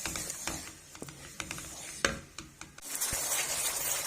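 Red chili powder and turmeric roast in a pan for a kofta chana gravy, with scattered scraping and stirring clicks over a faint sizzle that swells into a louder, steady hiss near the end.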